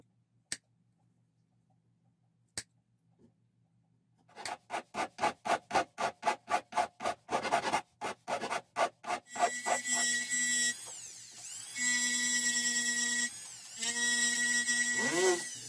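A cast silver and brass pendant being cut and trimmed with a motorized tool: two sharp clicks, then a run of rapid, evenly spaced buzzing pulses, followed by a loud, close, steady high whine that stops briefly and restarts.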